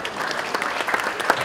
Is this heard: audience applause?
yes